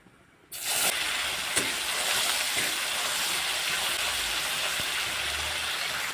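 A paste of ginger, garlic and green chilli hits a hot pan with a sudden loud burst of sizzling, then holds as a steady, close hiss with faint stirring clicks.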